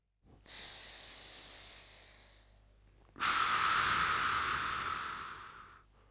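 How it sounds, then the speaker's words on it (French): Slow, deliberate breaths taken during a hip-pain exercise, a long soft inhale followed by a louder, drawn-out airy exhale, close to the mic with no talk. "Je vais faire 5 respirations, ce qui fait environ 30 secondes."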